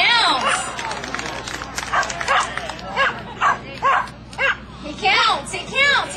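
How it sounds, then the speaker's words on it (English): A dog barks in a steady counting rhythm, about six or seven loud, evenly spaced barks close by, with people talking around them indoors. "He barks 2 times for 2 minutes."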